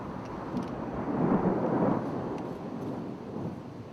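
Thunder from a thunderstorm beside the Isère river rolls as a low, continuous rumble that swells to a peak and slowly fades over a few seconds, with no voices.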